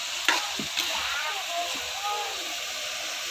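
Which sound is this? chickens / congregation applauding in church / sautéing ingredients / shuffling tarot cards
sautéing ingredients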